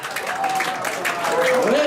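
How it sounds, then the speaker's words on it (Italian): An audience applauds at an evening gala honoring performers, a short burst of dense clapping with a voice carrying over it. "Eccoli, un'altra star della serata, un applauso, Fabio Armigliato,"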